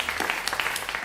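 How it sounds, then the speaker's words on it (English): Brief applause from an audience at a pro artist showcase night, a steady patter of claps lasting about a second with no talk. "round of applause."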